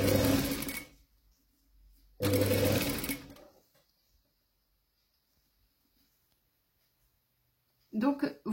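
A sewing machine stitches cord into fabric to make piping, running in two loud, close bursts of about a second each separated by a pause, with a short voice near the end.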